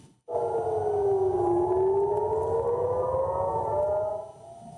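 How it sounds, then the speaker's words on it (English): Civil defense air raid sirens wail across Israeli cities during Iranian missile attacks: a loud, sustained rising and falling tone that starts abruptly, holds steady for several seconds and then drops away, with no voices. "sirens sounded in several Israeli cities overnight as a result of Iranian missile attacks"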